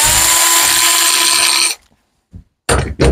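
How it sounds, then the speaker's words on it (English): Power drill boring a screw hole in wood, a loud steady whine for nearly two seconds that cuts off abruptly, followed by silence and a couple of short bursts of the drill restarting. "we take our drill, line this up right, and we'll drill this hole"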